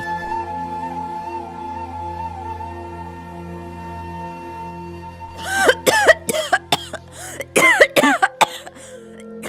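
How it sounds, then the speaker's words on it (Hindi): After a quiet musical stretch, an elderly woman nearby coughs in a rapid, harsh series of fits, loud and repeated over several seconds. "दादी, आपकी खांसी बहुत बढ़ गई है।"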